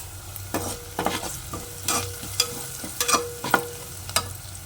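Curry leaves fry in oil for a potato kurma, giving a close crackling sizzle broken by repeated sharp pops and stirring clatter against the pan.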